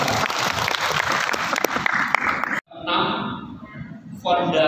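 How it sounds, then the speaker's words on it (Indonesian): Clapping fills the room at a teacher training workshop on the PAUD-SD transition at a hotel, briefly cutting off before a quieter stretch and then picking up again, with voices mixed in. "Tepuk tangan untuk Pak."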